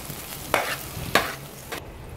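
Garlic sizzles in a hot pan for Bicol express, a steady frying hiss broken by three sharp scraping strokes of a spatula, close and clear without talk.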